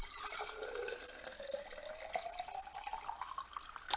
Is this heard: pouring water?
yes